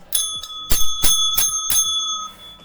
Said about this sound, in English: our little winning bell